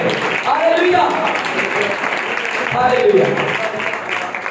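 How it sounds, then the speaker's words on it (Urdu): A church congregation at a fellowship seminar applauds steadily, a continuous wash of many clapping hands while a pastor speaks over it. "جتنے کوائر میں کام کرتے ہیں وہ بھی تالی بجائیں"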